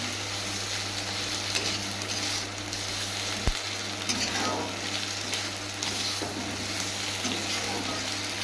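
Spice paste sizzles and fries steadily with pointed gourd (potol) in a pan, a continuous broadband crackle with a low hum underneath and one sharp knock partway through.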